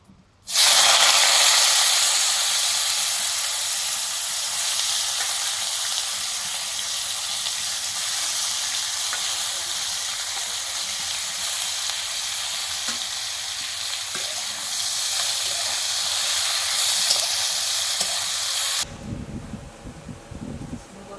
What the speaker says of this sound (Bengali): এই যে কড়া বসিয়ে তেল দিয়ে দিয়েছি এবার আমি ভাজা করবো